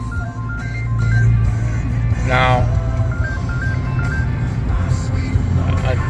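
A mobile phone ringtone plays a short stepped melodic pattern at moderate volume over a constant low hum, with a person speaking briefly at the start.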